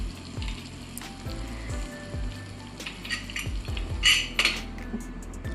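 Onions with ginger garlic paste and turmeric frying in a pot for children's khichdi: a continuous sizzle broken by repeated metal spoon scrapes and clinks against the pan, with a louder clatter near the end.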